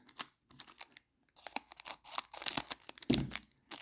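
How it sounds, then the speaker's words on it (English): Scissors cutting open a 2022 Topps Pro Debut trading card pack, with short crisp snips and crinkling foil wrapper bursts in quick irregular clusters, close and fairly quiet, with no talk. "Got my trusty scissors."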